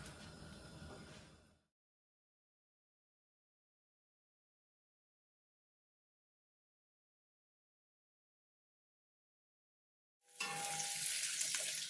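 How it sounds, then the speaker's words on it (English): Potatoes sizzling in hot oil in a pan, pan-fried for a Thanksgiving dinner: a bright, crackling fry heard briefly, then a long stretch of silence before the sizzle returns loudly and steadily. "now that my oil is nice and hot, we're gonna add in our potatoes"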